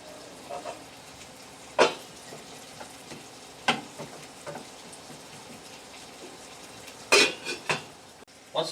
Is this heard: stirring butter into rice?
yes